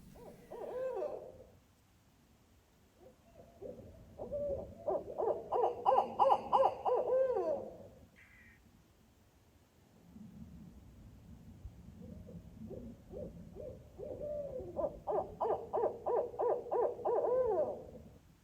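Owls hooting near their nest, two long runs of rhythmic repeated hoots at moderate distance, separated by a quiet pause, with no voices.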